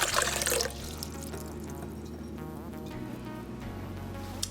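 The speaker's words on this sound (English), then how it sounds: "we're going to add our warm water first" Warm water pours into the bowl of a stand mixer, a continuous splashing stream that starts loud and settles into a steady, softer trickle, close by with no talking.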